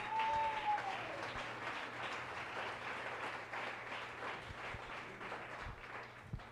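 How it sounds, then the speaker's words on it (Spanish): A church congregation applauds steadily in a large room, with sustained clapping that holds at an even level and tapers only slightly. "Denle un aplauso al Señor"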